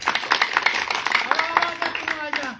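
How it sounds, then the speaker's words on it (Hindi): Scattered hand clapping from a crowd at a political address, loud and close, mixed with a speaker's voice talking over it. "बजाओ, ताली जोरदार"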